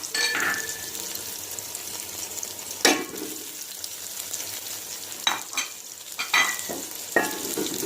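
Chicken is mixed into egg frying in a pan for desi-style egg fried rice, with a soft continuous sizzle broken by a few sharp scrapes and clinks of the spatula, no one talking.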